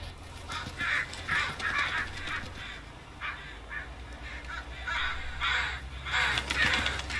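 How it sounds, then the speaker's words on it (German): Crows caw repeatedly in Farming Simulator 19, a run of harsh, rasping calls in irregular bursts over a low steady hum, fairly loud and close, with no talk. "Krähen, die Krähen machen Lärm."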